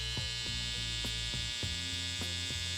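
An electric hair trimmer buzzes steadily and close, with a humming drone and brief soft pulses as it cuts hair.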